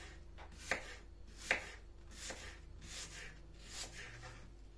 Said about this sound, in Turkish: Daha sonra elmalarımı ince ince dilimler halinde kesiyorum.